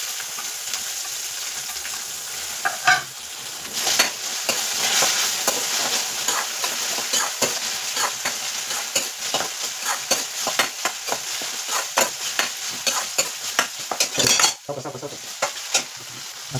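Soaked dal and cauliflower cook in hot oil in a pan, stirred with a metal spoon: a continuous sizzle broken by frequent, irregular scraping clinks against the pan, close and clear.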